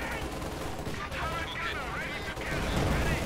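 Gunfire from Company of Heroes 2, a 1v1 match with a Panzer 4 and Panzer Grenadiers, roaring as a dense continuous barrage of shots and explosions with no break, loud and near.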